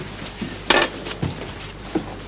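A sharp kitchen knife is taken from a drawer, heard as a few faint metallic clinks and rattles with quiet pauses between them.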